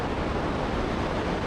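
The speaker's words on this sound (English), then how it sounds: "Time to reveal our big waterfall" A constant, dense roar of falling water at the Johnston Canyon upper waterfall fills the air, broad and unbroken, heard from nearby without other sounds.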